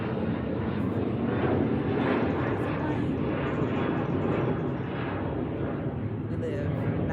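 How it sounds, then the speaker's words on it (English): A fixed-wing airplane passes overhead near Midway airport, a broad steady roar of jet engines that fills the background, heard from a backyard greenhouse. "excuse the plane"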